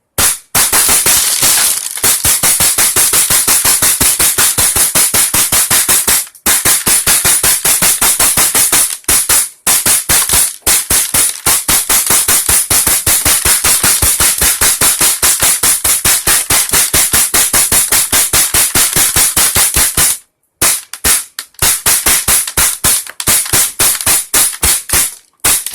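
An HPA-powered gun fires round after round from a KC-02 drum magazine at a target. The loud, rapid shots come in long unbroken strings, with only a few short gaps.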